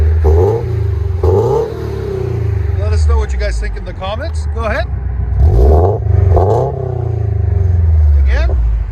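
Toyota GT86/Subaru BRZ 2.0L flat-four with a straight-pipe exhaust revving repeatedly in loud, raspy bursts that rise and fall, with people talking over and between the revs.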